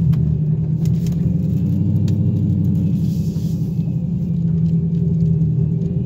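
Stock Dodge Challenger Hellcat making a soft launch at a drag strip, heard as a loud, steady close-up engine rumble with a pulsing low throb and little change in pitch.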